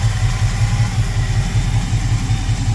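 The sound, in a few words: Carter P4594 electric fuel pump running, 1966 Plymouth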